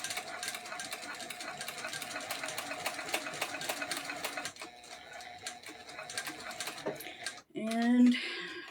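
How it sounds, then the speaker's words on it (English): A sewing machine stitching through a rucksack strap, running in a fast steady rattle of needle strokes near the microphone, briefly slowing and stopping before a short burst of louder handling noise. "I can go back to just sewing regularly."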